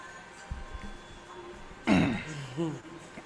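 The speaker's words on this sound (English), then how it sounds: "Let me clear my throat." A person clears their throat once, a short loud rasping burst up close, followed by a brief vocal trailing sound, with quiet room noise before it.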